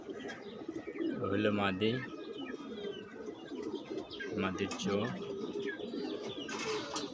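Pigeons coo in two clear rounds of low, throaty, rolling calls close by, with small chirps between them, while someone talks over the birds.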